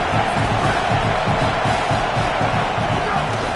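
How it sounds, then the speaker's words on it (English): A home crowd at a college football game against Florida roars in a steady, distant wash of cheering and shouting that fills the whole stretch without a break. "how nice is it to have the home crowd going absolutely bananas?"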